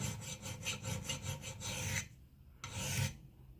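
A file rasps a fine micro edge onto an axe blade, with quick rhythmic strokes at close range followed by a pause and then one longer scrape, with no talking.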